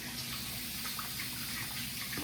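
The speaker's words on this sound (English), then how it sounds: "Now we're gonna wet the face again." Water runs steadily from a bathroom tap into a sink while the face is wetted for shaving. The soft, continuous gush sounds faint and fairly close, with no talking.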